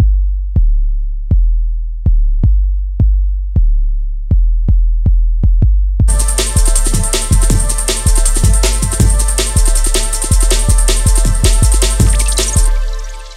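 Drum and bass four-bar loop in an intelligent 1990s style, opening with sparse booming kick hits alone before a full breakbeat with busy cymbals and layered synth tones joins, all loud and steady over a deep, boomy bass.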